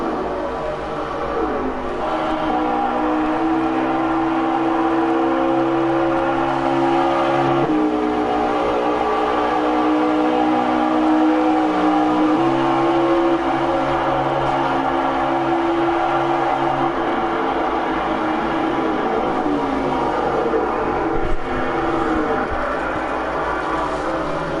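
A race car engine revs and drones steadily in an Xfinity racing video game, a continuous loud hum with slight pitch shifts throughout and no talking.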